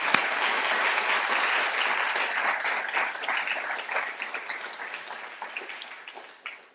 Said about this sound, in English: he deserves a round of applause for this.